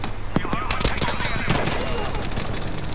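Rapid bursts of automatic gunfire from the Battlefield V online multiplayer shooter crackle through a busy battlefield, with sharp repeated shots spread across the stretch.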